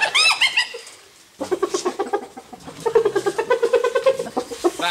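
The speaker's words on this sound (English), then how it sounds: "Would you like to hear a hyena laugh?" A hyena giving its high, rapid giggling laugh: a pitched whooping call, a short pause, then a longer run of quick, rhythmic cackling pulses, heard clearly with no talking over it.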